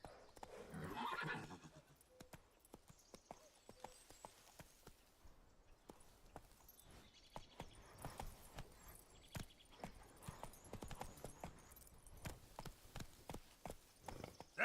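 Roach, a horse in The Witcher 3 video game, neighs once loudly near the start, then gallops in a steady stream of hoofbeats, fairly faint and close, with no talk.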